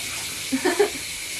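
Water runs steadily from a tap at a constant gush, with a few faint voiced sounds partway through.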